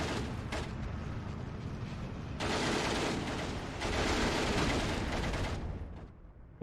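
Sustained machine gun fire from Maxim guns in the WWII strategy game Steel Division 2, on the Tali-Ihantala map, a dense continuous rattle of rapid bursts that swells louder midway, with no voices over it.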